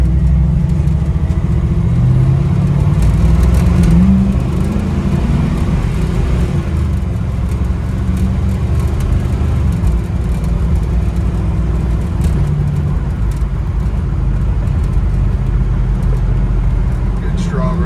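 A restored 1969 Camaro RS/SS engine runs steadily throughout, a loud, dense low rumble that holds at idle with slight variations, with someone talking over it at times.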